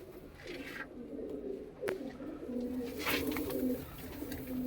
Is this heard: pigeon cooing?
yes